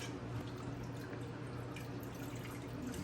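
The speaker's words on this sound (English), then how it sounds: "we need to add a little more water to our pot" Water poured into a cooking pot of meat-filled varenyky: a steady, continuous rush of running water with faint dripping textures, moderately quiet and unbroken, with no voices.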